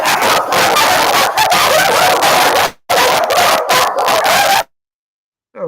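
Dogs bark in a loud, harsh, clipped burst of noisy barking, close up, that cuts to silence, with a brief gap midway and one more sound right at the end.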